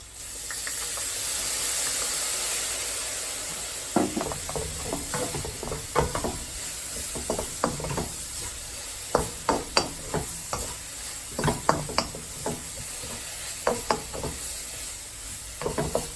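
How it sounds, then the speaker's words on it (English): Soy sauce sizzling as it is stir-fried in a pan: a steady hiss at first, then repeated sharp scraping and tossing strokes over continuous frying, close and moderately loud with no talk. "I'm just going to add some soy sauce. Give it some colour."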